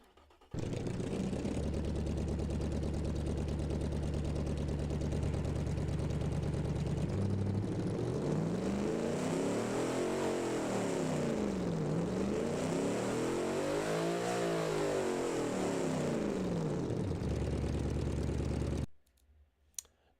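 Car engine in the Automation and BeamNG driving games, idling with a low steady hum, then revving up and down in repeated swells, loud and close, before cutting off abruptly.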